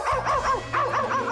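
A cartoon character imitates a dog, letting out a string of rising and falling yelping howls, loud and close, with a steady low hum beneath.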